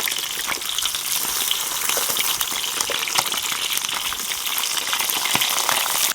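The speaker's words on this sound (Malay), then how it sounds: "Goreng sekejap je. Kita nak bagi kulit dia garing sikit." Fish frying briefly in hot oil to crisp the skin, a loud, steady, dense sizzle and crackle that fills the whole stretch without pause.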